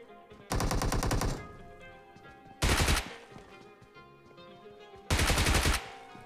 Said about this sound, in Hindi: अब मैं इसको चारों तरफ से फायर दे रहा हूँ ताकि ये बंदा पैनिक हो